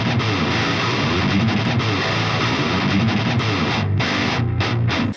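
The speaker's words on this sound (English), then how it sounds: "I'm going to use the Omega Ampworks one from Neural DSP for this tone." Heavy distorted electric guitar for a djent tone through a Neural DSP Omega Ampworks amp simulator, dense chugging palm-muted riffing played loud and continuously before cutting off at the end.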